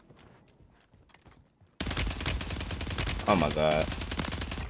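Rapid, sustained automatic gunfire in Warzone 3 on Rebirth Island breaks out abruptly and keeps going loud and dense, with a voice briefly exclaiming over it.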